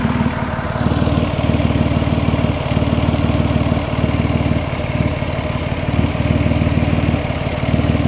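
A 2006 Mazda 6s engine idles steadily up close with a low, even rumble and a faint regular pulse throughout, no tapping or knocking, and no voices.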